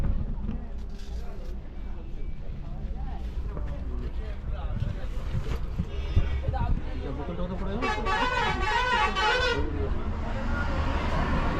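Bus travelling to Digha, engine rumble and road noise throughout with a burst of repeated horn toots late on, and voices talking over the drive.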